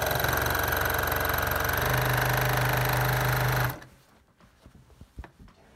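A quilting sewing machine stitches in the ditch on a t-shirt quilt, a loud steady mechanical whir that stops abruptly, followed by quiet handling clicks.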